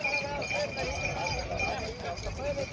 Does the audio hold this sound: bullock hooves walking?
yes